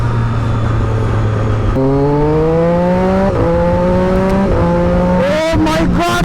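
A Triumph Daytona 675R motorcycle with an SC Project exhaust and a quick shifter accelerates loudly. The engine pitch climbs and drops sharply at each quick upshift, with wind rush at the end.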